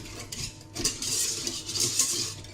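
Oats being stirred to combine in a bowl for an oatmeal and raspberry cream dessert, giving a close, steady scraping and clinking of a spoon against the dish over about two and a half seconds, with no talking.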